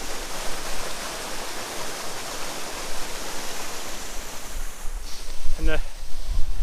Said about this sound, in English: the smaller waterfall is pretty frozen as well